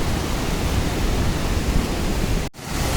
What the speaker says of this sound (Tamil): அருவி வேறு லெவலில் இருக்குது தண்ணி பாருங்கள் எவ்வளோ ஸ்பீடாக கொட்டுதுன்னு